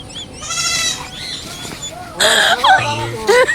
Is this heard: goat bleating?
yes